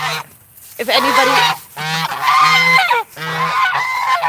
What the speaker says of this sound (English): Pretty Bird's ready to attack. He doesn't like it when he gets mad